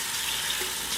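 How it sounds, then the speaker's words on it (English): Cold tap water runs steadily as a wig is rinsed under it, a loud, close, continuous splashing rush over a sink with no voices. "I'm gonna go ahead and wash her out with cold water"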